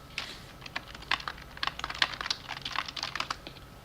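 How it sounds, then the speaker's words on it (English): Fingers type quickly on a computer keyboard in a quiet room while someone jots notes in a notepad during a live stream, a close, uneven run of crisp clicking keystrokes with brief pauses and no talk. "If people want to know what I'm typing, it's just a notepad."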